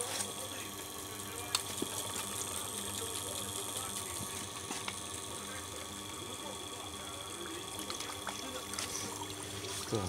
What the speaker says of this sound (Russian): Так, потекла, потекла. В дренаж потекла.